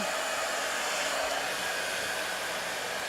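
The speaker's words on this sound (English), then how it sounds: "it is a very powerful little hair dryer" A hair dryer blows steadily at full power, a loud, continuous rushing hiss that holds unchanged from start to finish.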